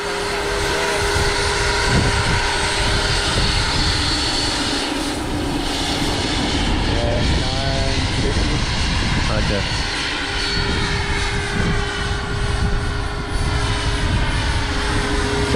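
An MD 600N RC model helicopter flies at an outdoor field on a breezy night, its rotor and motor whining steadily and loudly throughout, with voices talking nearby.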